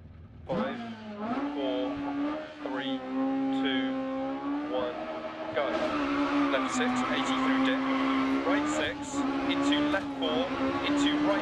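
An F2 kit car drives a Germany stage in a sim-racing rally game, its engine droning steadily and rising through the gears. Revs climb and fall between shifts, with occasional tyre noise, and the sound carries on throughout.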